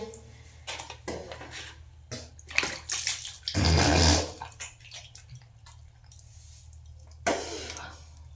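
Water poured over someone bathing, splashing and spattering in short bursts with a few longer gushes, close by, with a voice heard briefly between pours.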